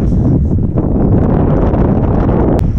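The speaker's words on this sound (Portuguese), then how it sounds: "Ventando muito aqui em Borborema." Strong wind gusting over the Tietê river in Borborema, São Paulo during a fishing trip, a loud, continuous roar buffeting the microphone throughout with no pause.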